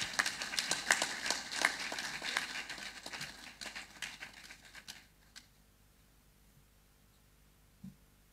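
An audience at a Koforidua Technical University congregation ceremony breaks into dense, sustained clapping that rings out loudly for about five seconds, then quickly thins and dies away, leaving near silence with one faint late thump.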